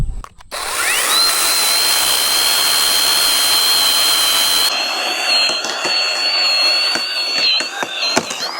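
A small, light OSUKA cordless chainsaw cutting tree branches, with a loud steady high whine that runs for several seconds, then bogs and wavers as the cut finishes, with clicks near the end.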